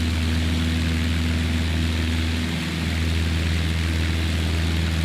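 A Beechcraft propeller airplane climbs after departure, its engine drone heard from inside the cabin as a loud, steady hum with a low throbbing tone throughout.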